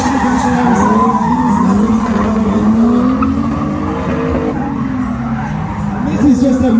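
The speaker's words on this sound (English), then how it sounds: "This is just a mild demonstration of what we can do with these drift cars here." Drift cars sliding in tandem at a racecourse motor show, including an E36, with loud sustained tire squeal and engine roar running continuously, and a commentator's voice audible over the action.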